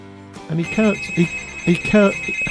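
A telephone rings in short repeated bursts behind people talking close by, the high electronic tone steady across a few seconds.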